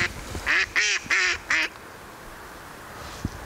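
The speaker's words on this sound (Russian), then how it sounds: "Уточки орут." Ducks on a river quack several times in a quick loud burst of harsh, nasal calls, followed by quiet water and a faint click.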